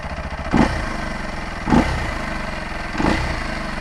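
A Kawasaki KLX 230 motorcycle engine idles up close and is blipped three times at an even pace, each short rev rising sharply and falling back to a steady idle.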